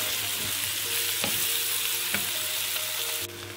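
Chicken shawarma samosa filling fries in a pan with a steady, close hiss of sizzling oil, broken by a few soft scrapes as it is stirred; there is no talk.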